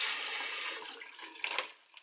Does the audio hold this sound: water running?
yes